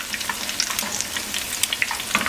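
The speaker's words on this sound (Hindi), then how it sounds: "ये आपने डीप फ्राई नहीं करनी, इस तरह थोड़ा सा फ्राई पैन में डाल के तो आपने ये सारे" Food shallow-fries in a little oil in a frying pan, a close, steady crackling sizzle with dense sharp pops throughout.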